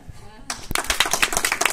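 Audience clapping at a stage hypnosis show, a sudden burst of applause starting after a brief quiet moment and continuing in dense claps, with a voice heard beneath.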